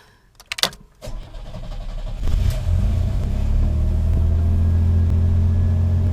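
A car engine cranks and fires up after a new alternator install, with a few clicks and short bursts before catching into a steady, close low rumbling idle.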